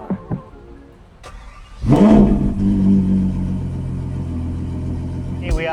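A Ferrari 812 drives through the city. A couple of short clicks lead to a sudden loud engine surge that settles into a steady, deep, close-up drone, with a brief rise near the end.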